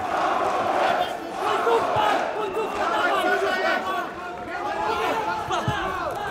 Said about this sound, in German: Lautstarke Magomed-Rufe.